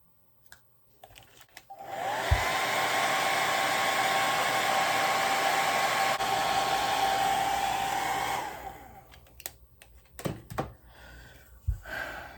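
A hair dryer drying fresh paint on thrifted, repurposed kitchen decor switches on and blows in a steady close whir for about six seconds, then cuts off, followed by a few light knocks and clicks.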